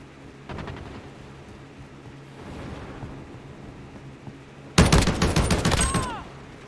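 Gunfire in Call of Duty: Modern Warfare, an early rattle of shots, then a loud, dense burst near the end, heavy and close over a low background rumble.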